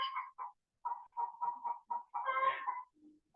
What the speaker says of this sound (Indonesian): Di sini ada suara ayam.